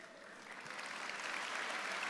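A church congregation claps together, the applause swelling slightly from moderate to fuller over a couple of seconds, heard at a modest distance without speech.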